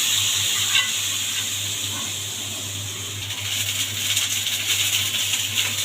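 Cumin seeds tempered in hot oil and poured into a pumpkin ghonto, giving a steady bright sizzle and hiss that swells slightly toward the end, close and alone.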